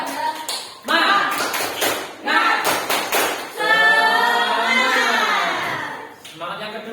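Group of students in an Indonesian classroom performing a rhythmic 'tepuk semangat' spirit clap, loud close sharp claps in quick patterned bursts with voices chanting along between them.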